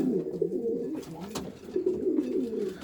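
Homing pigeons cooing close by, with a series of soft, throaty rolling coos that pause briefly midway and then resume.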